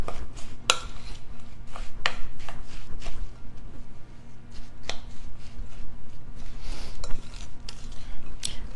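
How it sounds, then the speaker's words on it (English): Apple crunch mixture with a cup of pecans being mixed in a bowl, giving steady scraping and clinking with a few sharper knocks throughout, close and alone with no talk. "And now we'll add our cup of pecans. and continue mixing."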